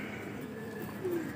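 Pigeons coo softly at a pigeon racing event in Rawalpindi, low throaty calls drifting at moderate distance over a steady outdoor background murmur.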